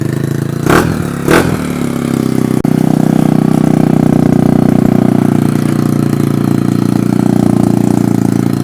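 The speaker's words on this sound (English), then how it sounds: "Let's start it up and see what it sounds like with that loud pipe." A small Honda ST140 motorcycle with a loud pipe is kicked over twice, then fires and settles into a steady, loud, close-up idle.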